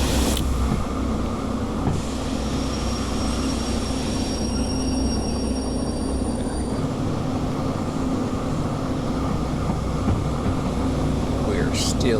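A heavy freight train rolls downhill at speed in the Derail Valley simulator, a steady loud rumble of wheels and engine with a brief high squeal near the start and a few rattles late on.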